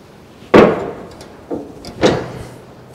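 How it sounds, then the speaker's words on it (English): Hammer blows crimping a folded sheet-metal edge during roof rust repair on a 1970 Holden HG ute: one loud sharp strike, then two softer taps about a second apart, close by in a quiet workshop. "we'll crimp it down with the hammer"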